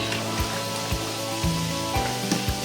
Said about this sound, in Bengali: গরুর গোশত ভালো মতো কষিয়ে নিচ্ছি